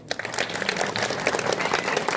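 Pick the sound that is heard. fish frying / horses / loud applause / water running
loud applause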